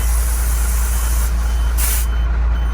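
Air hisses from a leaking trailer brake valve on a Peterbilt truck, a loud constant rush over a deep idling rumble, with brief sharper spurts of hiss partway through.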